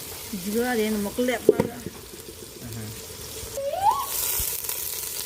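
Green chillies and onions frying in a pan give a soft, faint sizzle under a voice, with a few clinks and a brief rise of hiss near the end.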